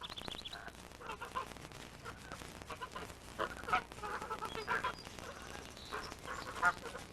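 Geese honk repeatedly in a cluster of calls, moderately close, with overlapping squawks through the whole stretch and no talking.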